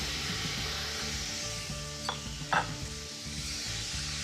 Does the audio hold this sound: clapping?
no